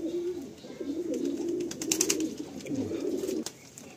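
Pigeons on a Kolkata rooftop coo close by in a continuous low, throaty warble, with a few sharp faint clicks and rustles overhead and no voices.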